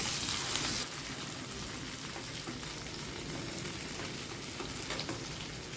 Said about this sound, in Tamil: இந்த மாதிரி எல்லா மீன்களையும் பொறித்து எடுத்து வச்சுருங்க